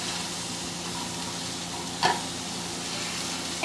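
Diced Granny Smith apples sizzling in a hot skillet, a steady close frying hiss with one brief clink of a utensil midway, no talking.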